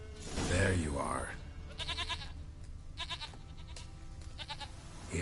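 A goat in The Witcher 3 gives several short, quavering bleats at a moderate distance, spaced a second or so apart, following a man's brief spoken line at the start.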